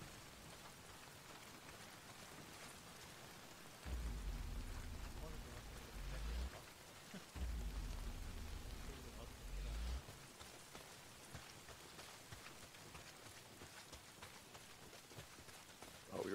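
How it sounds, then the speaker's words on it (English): Rain pouring down in Days Gone, a steady hiss of drops spread evenly over the whole stretch, with two bursts of low engine-like rumble in the middle. "Well, not if it's pissing down rain."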